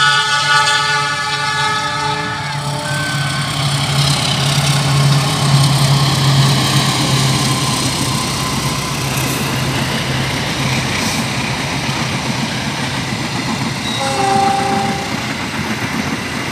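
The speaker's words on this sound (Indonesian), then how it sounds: "Mana keretanya" A train rolls past with a sustained horn blast at the start, followed by the steady loud rumble of passing railcars and a shorter horn note near the end.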